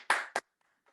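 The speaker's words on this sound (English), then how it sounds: "Clap for yourselves." Two quick, sharp hand claps from kids in a classroom life-skills lesson, close and fairly faint, followed by near silence with a soft trailing tap.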